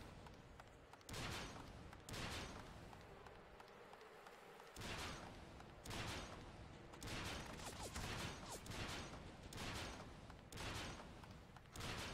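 Rifle shots in the third-person shooter Bullet Witch, a steady series of about nine sharp reports spaced roughly a second apart, fairly quiet with game ambience between them and no talk.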